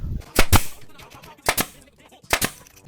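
A toy cowboy cap gun fires in sharp, close snaps, mostly in quick pairs spaced about a second apart, each crisp and brief.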